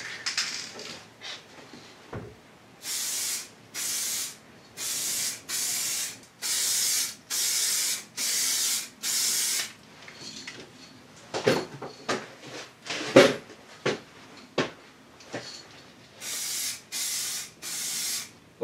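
Spray paint is applied to body repairs on an Opel Kadett in a series of short, loud hissing bursts with brief pauses between them, followed by softer rustles and knocks of handling, then a few more sprays.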